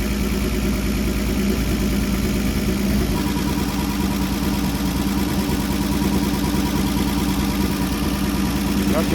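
A 1960 Chevrolet Bel Air engine idling with its idle set low, a loud, steady close rumble that runs unbroken throughout with no change in pace.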